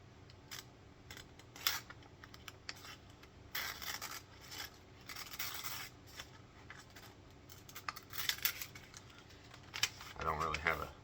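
A Swhacker Razor 252 100-grain fixed-blade broadhead slices through a sheet of paper in a sharpness test. The crisp, repeated cutting and rasping strokes are close and come in short bursts.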